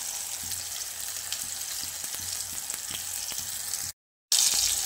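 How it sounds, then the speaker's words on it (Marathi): Tomatoes with garlic sautéing in a pan for stuffed eggplant, a steady loud sizzle and crackle with no talk, cut by a brief silent gap near the end before the frying resumes. "टोमॅटो छान परतून द्यायचे आपल्याला, थोडं शिजेपर्यंत छान असं परतून घ्यायचे"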